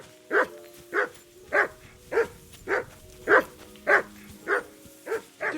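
A dog in Kingdom Come: Deliverance 2 barks repeatedly at a steady pace, about nine evenly spaced mid-loud barks with no talk over them.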